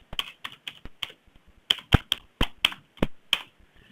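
Computer keyboard typing, a quick irregular run of crisp, close key clicks with a brief pause midway, no voices.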